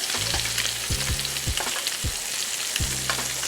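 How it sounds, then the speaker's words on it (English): Scallops sizzling in a pan of melted butter while being basted, a dense continuous crackle with repeated spoon taps against the pan, close and loud, with no voices. "baste it with a little bit of that melted butter"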